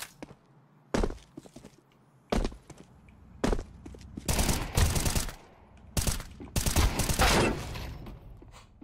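Bursts of Counter-Strike 2 gunfire, sharp, loud shots and rapid sprays, crack out in separate volleys across a match, with longer sustained firing toward the end.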